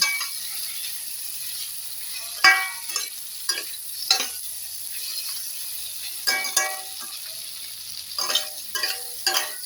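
Spices with coriander and cumin powder sauté in oil, a soft continuous sizzle broken by scattered scraping and stirring knocks from a utensil in the pan, with no voices.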